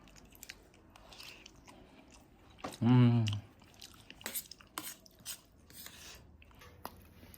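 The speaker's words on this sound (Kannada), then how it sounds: "ಸ್ವಲ್ಪ ಸ್ವೀಟ್ ಪೊಂಗಲ್ಲು ಟೇಸ್ಟ್ ಮಾಡ್ತಾಯಿದ್ದೀನಿ" Sweet pongal being tasted at home, with one brief burst of chewing and mouth sounds up close, followed by faint scattered clicks and rustles at low level.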